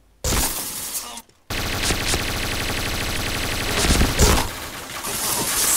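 Sustained automatic gunfire from the video game Point Blank, a loud dense rattle of rapid shots that cuts out briefly near the start and then resumes, carrying on without pause.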